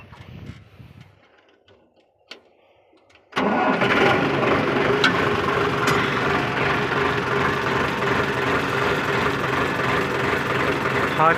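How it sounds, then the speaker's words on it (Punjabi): A tractor engine, used during the wheat harvest, turns over abruptly after a few quiet seconds, then idles loudly and steadily at close range for the rest of the stretch. "ਆਪਾਂ ਲੈ ਕੇ ਚੱਲਦੇ ਹਾਂ ਟਰੈਕਟਰ"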